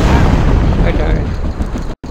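Rocket launcher explosions from the helicopter combat game Heliborne, a dense, continuous roar of heavy booming blasts close up, ending in a brief sudden dropout of silence.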